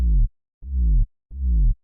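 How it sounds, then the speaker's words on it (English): Pitch-bent synth sub bass, almost pure fundamental: three loud, deep notes that each sweep downward in pitch, spaced evenly with short silences between them, alone without talk. "we have this pitch bended sub bass as well."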